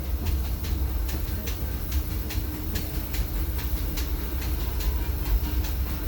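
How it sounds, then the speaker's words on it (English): A Disneyland Railroad excursion train rolls steadily along the rails, with a low continuous rumble and regular rhythmic clicks of wheels over rail joints, heard from aboard the train. "please remain seated until the train comes to a complete stop"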